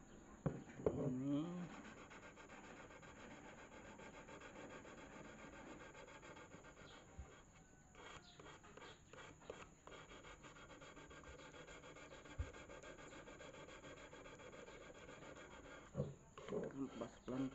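Fine sandpaper rubs back and forth across a krakot fishing lure, a soft, steady rasping scrape that continues close and quiet, with a few light knocks near the start and toward the end.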